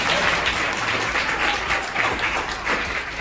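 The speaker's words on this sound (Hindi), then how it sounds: "एक तालियां इनके लिए हो जाए" Government school students and listeners in Haryana give a classmate a brief round of applause, a close, steady patter of many hands lasting a few seconds.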